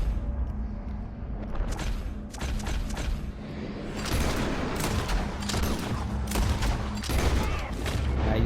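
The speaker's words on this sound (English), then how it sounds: "Watch me shoot all these dudes right there before they even notice what I'm doing." Gunfire in Red Dead Redemption 2 at Beaver Hollow: a string of rapid close gunshots crackling in bursts over a dense, loud battle ambience, growing heavier toward the end.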